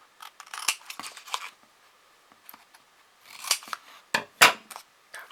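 Scissors snip through paper for a desk organiser craft kit in short bursts of crisp cuts, with pauses between them, close by and fairly quiet, no talking.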